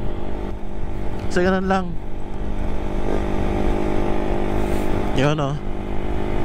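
A Honda Raider 150 carburetor motorcycle engine runs with a steady, close, loud drone throughout, and someone speaks briefly twice over it.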